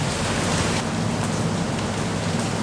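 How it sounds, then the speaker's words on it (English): Heavy rain pours down steadily in Boston, a dense, constant hiss of drops beating on surfaces with no pauses, close and fairly loud throughout. "we've still got plenty of rain around"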